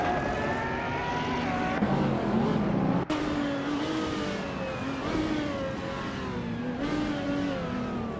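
Engines of several race cars in a racing video game whine and shift pitch as the cars fight for position, with revving gear changes and a brief thump midway, loud and continuous.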